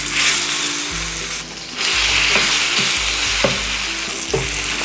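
Cucumber chutney for dosakaya mukkala pachadi tipped into a hot tempering pan, giving a loud, steady sizzle with stirring clatters and scrapes throughout.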